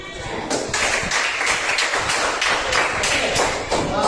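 A classroom of students claps together in a rhythmic Indonesian class clap, sharp regular bursts of hands beating in unison roughly every third of a second, near and fairly loud, with faint voices underneath.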